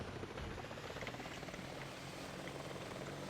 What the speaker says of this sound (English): this chopper here seems to like sliding forward slightly, but I believe can take off no problem here